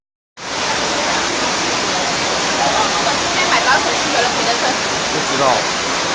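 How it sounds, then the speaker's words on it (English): Flash floodwater pours steadily into a shop during a UK downpour, a dense continuous rushing wash that starts abruptly and holds loud and close throughout, with a voice faintly audible beneath it. "Water's coming in"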